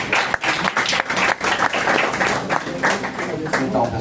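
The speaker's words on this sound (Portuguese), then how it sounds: "uma salva de palmas para o mestre Bidu" An audience applauding a capoeira master, the clapping loud and dense with brief dips, and voices mixed in.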